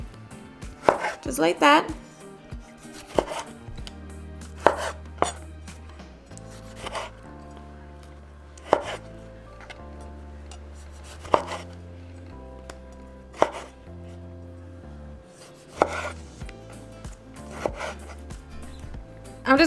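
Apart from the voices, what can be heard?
chopping tomatoes into little moons on a board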